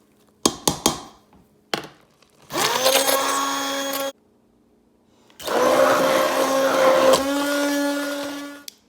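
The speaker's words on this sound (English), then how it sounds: "I have an immersion blender that I will just use to blend it." A few knocks and taps, then an immersion blender blending apples whirs loudly in two sustained bursts, pausing briefly between them, its motor pitch shifting as it works.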